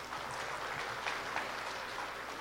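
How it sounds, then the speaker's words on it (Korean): Audience applause after a presentation at a 2019 nuclear safety regulatory conference, a steady, even wash of many hands clapping that holds at a constant level throughout, somewhat distant in the hall. "다시 한번 박수 부탁드리겠습니다."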